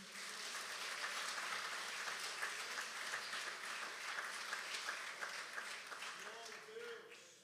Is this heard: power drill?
no